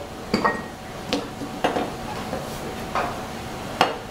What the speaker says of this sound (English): We're going to start by preparing the onions and the chives. We're just going to cut these up a little bit.